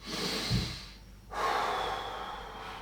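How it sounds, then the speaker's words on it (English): Deep breaths during a gentle mobility stretch: a long, audible inhale, a brief quiet pause, then a slow, airy exhale, close to the microphone. "Big breath in and out."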